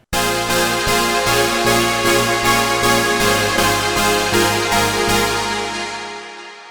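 Dense, bright uplifting trance synth chords pulse in a steady rhythm with delay repeats smearing between hits, then fade out at the end.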